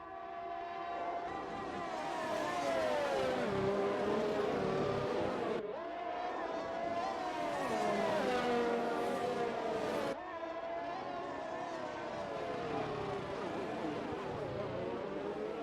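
Formula 1 race cars screaming past at the Melbourne circuit, high whining engines rising and falling in pitch across several passes, loud and continuous with commentary voices running over them.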